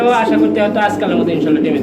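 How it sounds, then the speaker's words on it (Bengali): A male pigeon coos in a busy pigeon farm, a low rolling call heard close up alongside other birds and talking voices. "একটু ডাকলো নর কবুতর"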